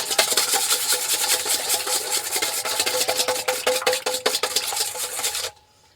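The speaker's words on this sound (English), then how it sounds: "now I'm going to whisk the eggs up real well" Eggs whisked in a bowl for homemade fried apple cinnamon rolls, a busy, steady clatter of rapid metal-on-bowl strokes close up, continuous for several seconds before stopping abruptly.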